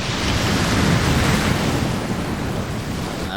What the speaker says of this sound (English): That was a loud splash.